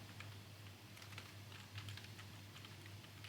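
Typing on a computer keyboard while writing React code, a steady patter of light key clicks close by, with a low constant hum underneath and no voice.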